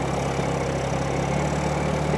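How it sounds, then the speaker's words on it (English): A digger engine idles close by while towing a trailer during tree clearing, giving a loud, steady low rumble with an even throb that holds unchanged throughout. "Sorry about the engine noise."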